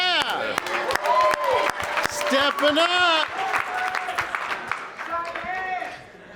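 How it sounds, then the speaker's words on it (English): An audience gives a scattered round of applause, sharp claps mixed with lively cheering and overlapping talking voices close by. "let's have a round of applause"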